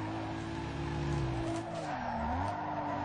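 In the racing game Need for Speed Underground 2, a car spins out with a sustained tire skid over a droning engine tone that bends in pitch as it slides, heard without any speech.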